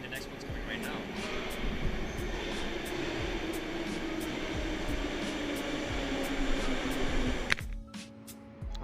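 A train pulls into a station with a continuous loud rumble and roar over steady rhythmic clacks, ending in a sudden sharp bang and hiss as it comes to a stop.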